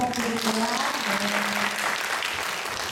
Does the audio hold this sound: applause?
yes